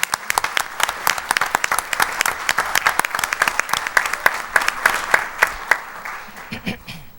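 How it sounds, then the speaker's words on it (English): Applause at a school board meeting, a steady round of fairly loud clapping from a room of attendees that holds for several seconds before tapering off, with faint voices underneath near the end. "If we could applaud."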